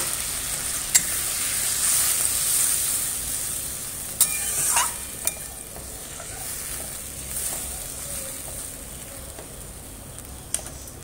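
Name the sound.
water added to sizzling spice masala in pan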